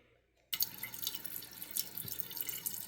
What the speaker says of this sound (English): So filling the water back up now, give it a flush